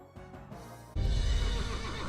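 A horse lets out a loud, shuddering whinny that rises and wavers after a quieter lead-in, close and clear with no voices.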